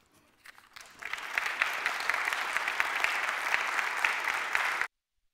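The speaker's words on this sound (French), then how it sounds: "Après vos applaudissements" Applause from the audience at a French conference on the ecological and solidarity transition rises after a quiet second, continues as dense clapping and then stops abruptly.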